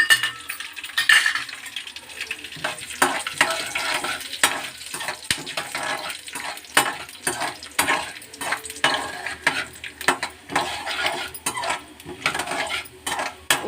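Coriander seeds and then peanuts sizzle and crackle in hot oil in a pan, with a steady frying hiss broken by frequent sharp pops and the clatter of stirring, close and fairly loud with no talking.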